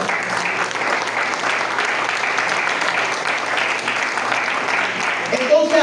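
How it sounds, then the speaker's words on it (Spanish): Church congregation giving a strong round of applause, dense steady clapping filling the room for several seconds with voices faintly mixed in near the end. "Aleluya, dale un fuerte aplauso al Señor."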